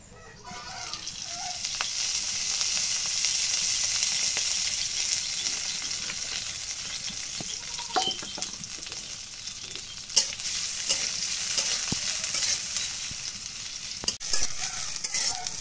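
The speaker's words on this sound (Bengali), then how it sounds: "কড়াইতে মরিচ পিস দিয়ে দিই।" Chili pieces frying in oil in a wok give a steady, broad hiss that stays close and even, with a few faint clicks and knocks and distant clucking of chickens in the background.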